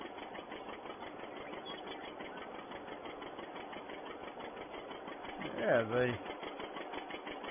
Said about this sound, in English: John Deere popping along as only a John Deere does.